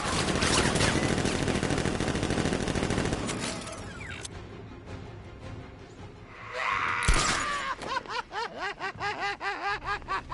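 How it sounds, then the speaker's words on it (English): Dense, rapid gunfire rattles through a Batman video game at first, then fades into quieter game sounds before a sharp crash and a run of rhythmic bursts near the end. "Open fire! Shoot everything! Now!"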